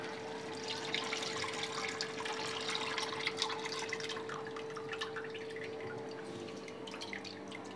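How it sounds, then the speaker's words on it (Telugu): Tamarind juice is poured into a pot of Bangaru Teega fish curry, a continuous liquid splashing and dribbling under a faint steady hum. "ఇప్పుడు చింతపండు పులుసు వేసి చూపిస్తున్నాను నేను మీకు."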